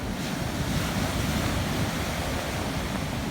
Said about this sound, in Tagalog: Pakalaki ng alon.